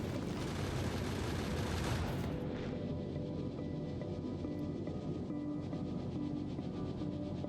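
Turrets in Factorio: Space Age fire bullets at asteroids, a dense rapid crackle of gunfire that is loud at first, then drops abruptly to quieter, sparser popping over a low rumble.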